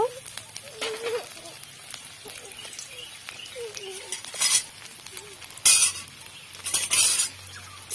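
Chopped ginger and garlic fry in a little oil left over from frying cauliflower, giving a soft sizzle under utensil clinks and scraping, with louder bursts of crackle and metal clatter now and then.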